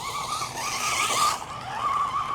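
A budget RC short course truck on a 2S battery whines across sandy terrain, its small electric motor giving a steady high pitched drone that rises and dips with throttle, close and loud.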